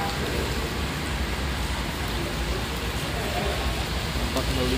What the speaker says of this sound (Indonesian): Cuaca masih hujan di Terminal Mendolo Wonosobo.